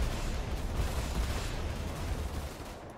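Ship weapons firing in the Star Citizen space combat game Arena Commander, a continuous rapid burst of loud gunfire-like blasts that tapers slightly at the end, with no talk.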